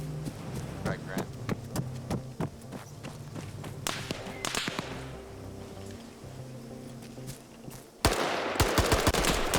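Full-auto gunfire in a town-clearing shooter game, with rapid sharp shots in uneven bursts, then a dense loud volley near the end. A voice talks underneath at times.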